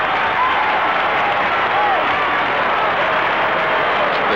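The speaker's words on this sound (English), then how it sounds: "The cheer they are making is for Harry Sullivan, who has just come off the ground" Dense, continuous roar and applause from a huge Australian football crowd of some 80,000 in a stadium as a North Melbourne player leaves the ground, a steady wash of cheering under a voice.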